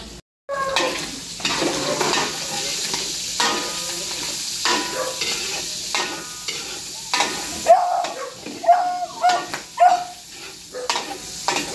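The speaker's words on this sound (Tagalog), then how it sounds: "piprituhin lang natin yung ating liempo" Pork belly (liempo) frying in a pan in a busy farm kitchen, a steady close sizzle with stirring clatter and scraping, a few sharp tonal squeaks of utensils on metal near the end.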